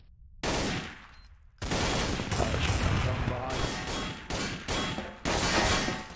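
Gunfire in Counter-Strike: Source, bursts of automatic shots arriving in several loud, dense volleys that start and stop abruptly, some overlapping, with occasional voices in the mix.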